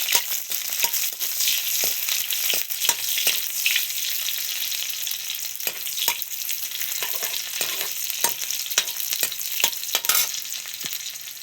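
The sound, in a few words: onions frying in hot oil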